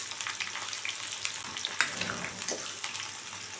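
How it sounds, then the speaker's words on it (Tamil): Seven small onions sizzle steadily in hot oil with mustard seeds and two dried red chillies, a close, continuous frying hiss broken by light stirring scrapes. "வெங்காயம் நல்லா வதங்கட்டும்."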